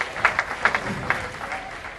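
A crowd of bowling fans at a New Jersey pro bowling tournament claps in a short burst of applause, a few sharp claps standing out, fading slightly.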